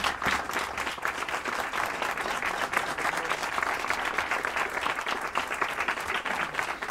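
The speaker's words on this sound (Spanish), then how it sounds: "Muy bien, fuerte el aplauso." An audience applauds loudly and steadily during a farewell show, with dense clapping lasting throughout and some faint crowd noise beneath it.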